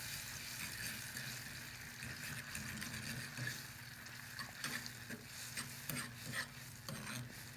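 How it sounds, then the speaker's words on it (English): Butter wine sauce with greens being stirred in a pan, a steady close sizzle under repeated scraping and dragging strokes of the spoon across the pan bottom. "I gotta mix it around a little."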